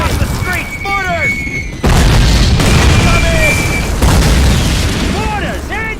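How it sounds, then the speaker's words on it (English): Mortar shells explode in a Call of Duty classic war scene, a heavy booming barrage rolling on as loud rumbling under shouted soldier voices and battle noise. "Mortars incoming!"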